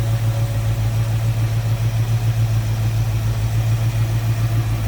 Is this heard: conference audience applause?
no